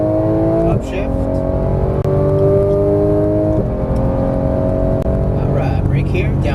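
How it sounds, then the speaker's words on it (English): A Porsche 991 GT3 engine pulls hard at full throttle, its pitch climbing steadily before dropping sharply at each upshift and rising again, loud and close, with someone talking over it. "Squeeze to full throttle, let's see what it's got. Oh, yeah. Upshift."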